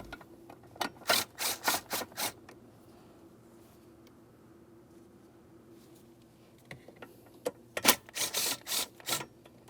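Two 10mm mounting bolts come out from under the dash of a 2003-2008 Toyota Matrix, each as a rapid burst of ratchet clicks, one early and one later, close and crisp with a quiet pause between.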